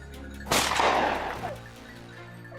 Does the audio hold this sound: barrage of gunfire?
yes